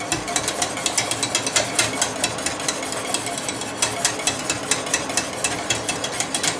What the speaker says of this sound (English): I like to whisk it quite vigorously